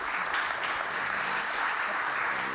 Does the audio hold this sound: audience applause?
yes